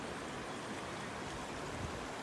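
Gentle river current flows in a steady, faint wash of water, continuous and even with no voices over it.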